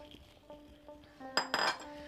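A bowl clinks as milk powder goes in while making homemade rasmalai: soft taps early, then two or three bright ringing clinks of kitchenware close by, with no talking.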